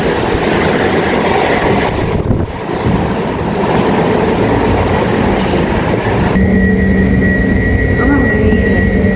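A train running toward Songsan station runs loudly and steadily with a constant rumble and rushing noise, its tone shifting partway through as it moves along.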